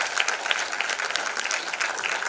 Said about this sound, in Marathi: तही कौतुक म्हणून आपण जोरदार टाळ्या वाजवूया